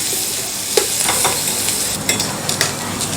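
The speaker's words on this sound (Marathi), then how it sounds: "आता आपण यामध्ये शिजलेला बटाटा घालूया बटाट्याचे काप करून घेतलेले आहेत हे मिक्स करून घेऊया" Sliced boiled potatoes are stirred into a sizzling spiced mixture in a pan: a steady, close frying hiss with scraping spatula strokes and a few sharp clinks, with no talk.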